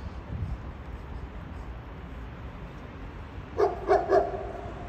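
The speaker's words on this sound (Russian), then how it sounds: "Ой, собачка. На балконе где-то лает" A dog barks from a balcony somewhere along a city embankment, three quick barks near the end, moderately distant over steady outdoor street ambience.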